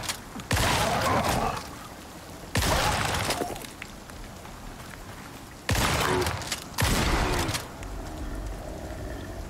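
Gunfire in the survival game Icarus, four loud, harsh bursts of shooting separated by quieter stretches of steady background noise.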